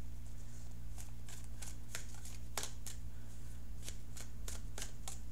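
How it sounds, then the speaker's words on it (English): A deck of tarot cards being shuffled and cut for a reading: a series of soft, crisp riffles and snaps, some louder than others, over a constant low hum, with no talking. "And I'm going to cut the cards now."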